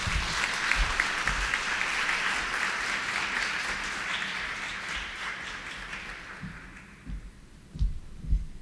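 Audience applause after a request to honor women leaders at a formal Latin American academic lecture, a dense steady clapping wash for about seven seconds that fades, then a few scattered claps near the end.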